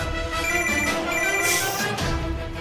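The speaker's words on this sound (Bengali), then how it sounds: "অঙ্কুরদা ফোন করছে" A mobile phone rings with an incoming call, a steady melodic ringtone playing loudly and continuously with no voices over it.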